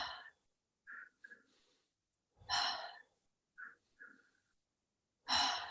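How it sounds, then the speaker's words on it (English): A person does slow guided breathwork, taking gentle inhales through the nose and then long, audible breathy exhales in a calm, repeating pattern with pauses between. "Breathing in through your nose for 2. Exhale. Gentle exhale."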